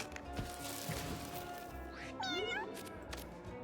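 A cat meows in the video game Mewgenics, one clear rising-and-falling call midway through over quiet game sounds, with a faint voice nearby.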